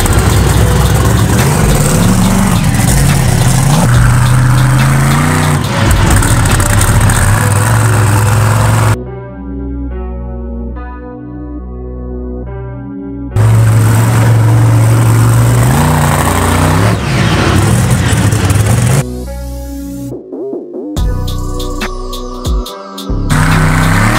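A truck taken out on a test lap to check that it stays stiff, its engine loud and close, revs climbing and falling through gear changes with a few abrupt cutouts and quieter idling stretches.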